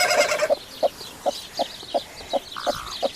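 A broody hen that dislikes being touched gives a loud squawk, then a regular series of low, evenly spaced clucks, close by and alone.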